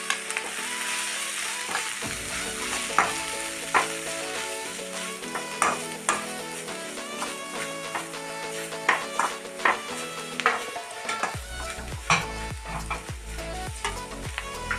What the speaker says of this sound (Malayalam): നമ്മുടെ സവാള ചെറുതായിട്ട് ഫ്രൈ ആയിട്ടുണ്ട്